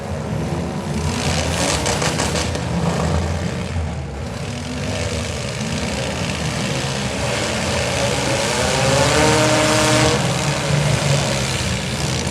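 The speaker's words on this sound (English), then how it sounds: "And these stock cars were underway." Stock cars race around the track at a county fair derby, their engines roaring loudly and continuously with rising and falling drones as the cars pass nearby.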